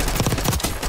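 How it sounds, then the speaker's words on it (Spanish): Video game gunfire comes as a rapid burst of several sharp shots in quick succession, loud and close, filling a brief moment with no speech. "Escucho disparos por esta zona"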